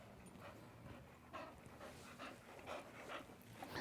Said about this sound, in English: You can hear her labored breathing and everything.